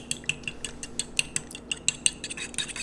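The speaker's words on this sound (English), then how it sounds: "So you want to whisk your eggs." Eggs whisked in a bowl for protein pancakes, a quick, steady run of light metallic ticks and clinks against the bowl's side, close and fairly quiet, with no talking.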